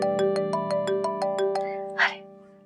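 A phone ringtone plays for an incoming call in a Pakistani drama scene. A bright melodic tone pattern repeats quickly and evenly for about two seconds, then breaks off with a short rustle at the end.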